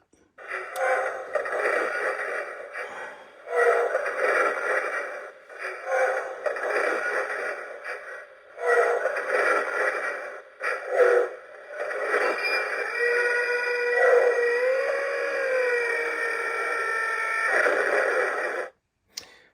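Electronic walking sound effect from a vintage 1997 Kenner Star Wars Power of the Force Imperial AT-AT toy, a loud, repeating mechanical-electronic stomping loop in rhythmic bursts that runs for a long stretch with brief gaps.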